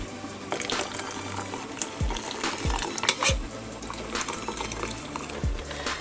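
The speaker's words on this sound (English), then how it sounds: "I'm going to start frying the fish" Steady sizzling and crackling of fish frying in hot oil, with a few soft clunks and taps throughout.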